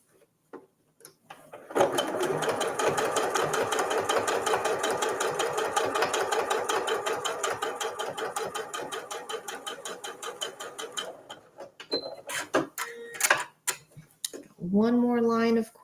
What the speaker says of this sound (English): So I'm only quilting through the front layer.